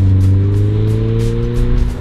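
Loud pass of a 2022 Subaru BRZ with a titanium exhaust, its engine note climbing in pitch as it revs hard, then rasping and fluttering as the car sweeps by and pulls away.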